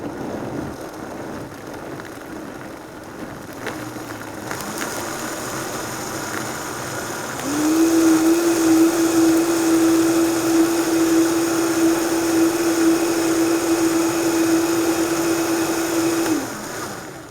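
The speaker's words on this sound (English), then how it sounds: "we're going to start our blender on variable. So we're going to take a low speed, and we're going to gradually increase the speed." A variable-speed blender whirs through a raw vegan sauce with sun-dried tomatoes, a low motor hum that jumps to a louder, higher steady whine partway through and holds until it cuts off, with no talking.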